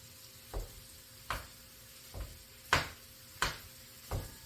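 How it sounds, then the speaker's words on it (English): Jimmy Dean sausage frying with vegetables in a pan, steady low sizzling broken by about six sharp, crackling bursts of spatter or stirring at roughly regular intervals, close and alone. "we're just going to let this cook right in here with our vegetables, just like this."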